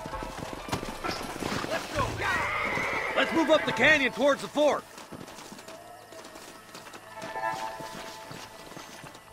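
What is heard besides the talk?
horses clip-clopping and neighing in video game Red Dead Redemption 2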